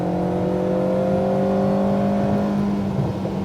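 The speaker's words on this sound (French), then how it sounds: "Allez, gaz à fond. Et reste en 4, Anne, ne passe pas le rapport." An Alpine A110R car accelerating at full throttle in fourth gear on a track, its engine note rising in a smooth, steady whine heard from inside the cabin before easing off near the end.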